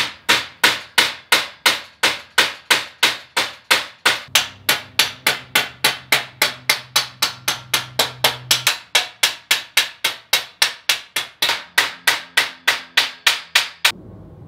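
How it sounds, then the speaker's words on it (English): Steel edge hammered over to form a dimple during Porsche 911 fabrication: about forty sharp, evenly spaced metallic hammer blows in a steady rhythm, loud and close, with a faint background hum. "the steel here, and then I'm just sort of hammering over the edge."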